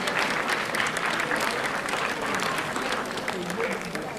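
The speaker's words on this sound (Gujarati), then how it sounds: "આપણે સૌ તાળીઓના ગડગડાટ સાથે આ સન્માનને વધાવી લઈએ" An audience at a formal honouring ceremony for visiting neurologists breaks into sustained, dense applause, steady and full throughout with a faint murmur of voices underneath.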